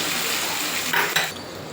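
Chicken curry with ginger paste and chopped tomato sizzles steadily in a pan, with a spoon stirring and scraping through it in a couple of short, louder strokes near the end.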